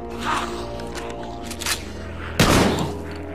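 Gunshots in the zombie video game The Walking Dead: Survival Instinct, with a few muffled pops early on and one sharp, loud blast near the end over a steady background hum, while a man reacts faintly.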